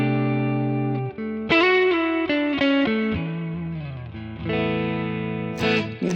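Clean electric guitar played through a Nano Cortex using an Amalgam capture of a 2-Rock amp, with a few sustained notes and short picked phrases carrying slight grit on harder attacks and some reverb tails.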